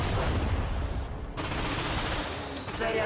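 Bursts of rapid gunfire crackle with brief pauses, loud and close, from the video game Ratchet & Clank.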